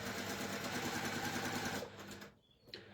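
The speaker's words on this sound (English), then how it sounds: "take it back down to the machine, and we will stitch across here" Domestic sewing machine stitching a patchwork seam across pinned fabric, running steadily with a fast, even whir for nearly two seconds before stopping, followed by quiet handling.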